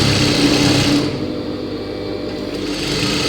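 A sewing machine runs steadily, stitching a folded seam of joined fabric pieces for gathered pants, its loud continuous motor whir holding throughout with a slight drop partway.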